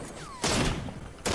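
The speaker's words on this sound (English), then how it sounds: "Oh, they're shooting at us." Gunfire from other players in a Fortnite match, a broadband crackling burst that cuts in sharply, with a second burst starting near the end, loud and close.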